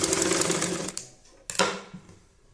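A sewing machine stitches a folded hem on fabric for a rabbit-ear hat, running in a fast, rattling burst for about a second, pausing, then briefly whirring again up close.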